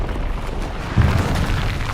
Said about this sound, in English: Oh, that's big explosions. That's big explosions.